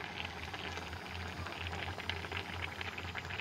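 Ginataan with coconut milk simmering uncovered in a pot, a steady close bubbling and crackling boil with a low continuous hum underneath, no voices.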